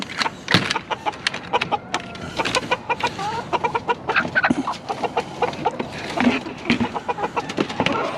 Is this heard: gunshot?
no